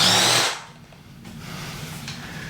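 A power drill whirs loudly for about half a second while backing out a hammer fixing from a wall, then stops, leaving a quiet room with faint handling noises.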